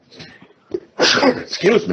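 A small stifled catch is followed by one loud, explosive sneeze and a second burst right after, close to the listener.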